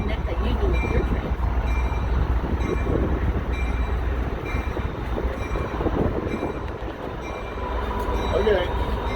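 An Amtrak 281 engine couples to rail cars at the California State Railroad Museum, heard as a continuous heavy rumble and clank of the train, with people talking close by throughout.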